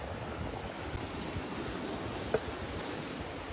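Ocean waves along a rocky Hawaiian coastline at a famous local fishing spot, a continuous broad wash of surf with wind noise, steady and fairly loud, with one brief sharp tick near the end; no one speaks.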